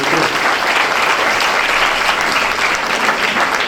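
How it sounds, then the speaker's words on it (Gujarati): Audience applause for the parents in attendance at a communication-skills seminar: dense, steady clapping from a large crowd, sustained and even at full level throughout. "એકવાર માતા પિતાઓ માટે તાળી પાડો"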